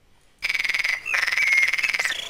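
Frogs croak in a rapid, pulsing chorus, loud and close, breaking off briefly and then resuming in a steadier trill that runs to the end.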